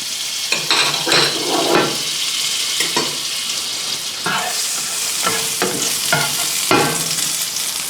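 Butter in a preheated pan makes a loud, continuous sizzle, broken by repeated scraping and stirring strokes of a utensil across the pan at an irregular pace, with no voices.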